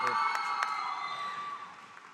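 A large commencement ceremony audience applauds and cheers with a few high whoops, the noise steady at first and then gradually tapering off.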